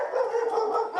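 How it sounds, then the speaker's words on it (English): A house dog on a podcast set gives one continuous, moderately loud, howl-like bark that lasts about a second, close by, with no one talking. "We got a visit from the house dog"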